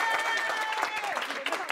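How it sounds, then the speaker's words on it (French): Parents applauding a renowned Lille chef visiting a school in Roubaix, a brief burst of dense clapping from a small crowd. "je voudrais un tonnerre d'applaudissements pour Monsieur Marot"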